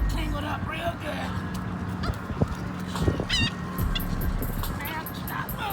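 A seagull tangled in fishing line and braid squawks and honks in loud, harsh bursts nearby while people talk over it and handle the struggling bird.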